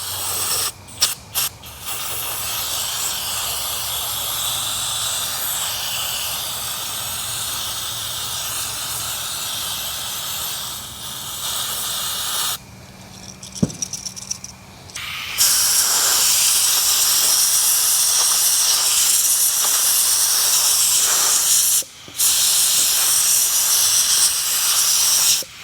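Aerosol brake cleaner sprayed onto trailer wheel bearings, a loud steady hiss running in long stretches with a brief pause midway and short breaks near the end.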